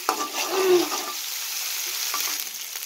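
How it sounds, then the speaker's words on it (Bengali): Dried loitta fish frying in oil in a pan with ginger and garlic, a steady close sizzle with a brief scrape of stirring near the start, continuous with no talk. "ভালো করে ভাজি করে নেবেন।"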